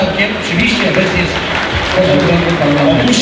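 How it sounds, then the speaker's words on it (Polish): A crowd at a regional sports champions gala in Lublin applauds steadily and loudly throughout, a dense unbroken wash of clapping with voices talking over it. "No oczywiście brawa."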